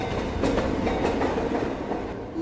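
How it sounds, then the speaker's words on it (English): A train pulls into a station platform, a steady rumble with rhythmic clicking of wheels over rail joints, close and fairly loud, heard briefly without voices. "The train to the city is arriving on platform 1."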